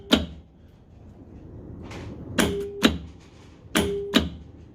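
A car door lock solenoid fires when its wiring is touched to chassis earth, giving sharp mechanical clunks in two close pairs with a short hum between, near and loud in a quiet space.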